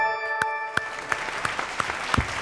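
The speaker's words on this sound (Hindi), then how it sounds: "ताली तो बनती है इनके लिए" Quiz show audience applauding the contestants, a thin scattered clapping of a few hands in a quiet room, with sharp separate claps and a faint steady hum behind.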